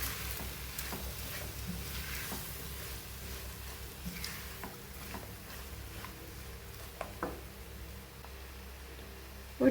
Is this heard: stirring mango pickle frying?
yes